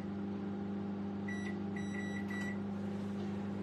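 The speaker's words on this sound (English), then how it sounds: "We'll whack that into the other microwave oven" A microwave oven hums steadily with a low drone throughout, and a short run of electronic beeps sounds partway through, close and alone with no talking.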